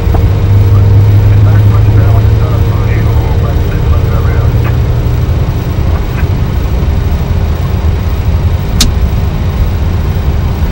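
A Boeing 737-800 jet engine on a GOL airliner at Congonhas starts up, heard as a loud, steady low rumble and whine that holds throughout, with muffled voices at times.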